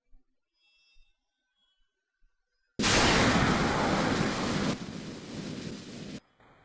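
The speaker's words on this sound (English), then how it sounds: "Standing by to launch missiles again." Missiles launching in Kerbal Space Program, a sudden loud roaring rocket blast that bursts in after near silence, holds for a few seconds, then drops to a quieter rumble before cutting off.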